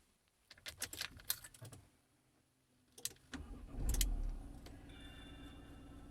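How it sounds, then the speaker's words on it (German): A car's engine cranks and catches after some clicking and rustling inside the vehicle, settling into a steady low idle hum at close range with no talking. "Ich starte hier den Motor,"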